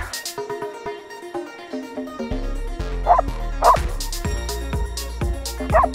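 A dog barks in several sharp, close bursts amid outdoor farm sounds during a potato harvest, with a low engine hum entering partway through.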